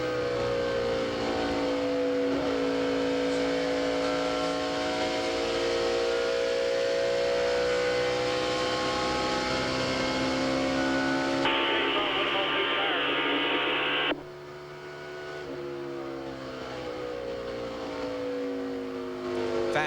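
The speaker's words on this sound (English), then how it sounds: "listen as he goes around the corner" A NASCAR stock car engine at Twin Ring Motegi in Japan, 1998, whines steadily around a corner at high speed, a sustained droning pitch that shifts abruptly midway and then fades lower, with a broadcast commentator talking over it.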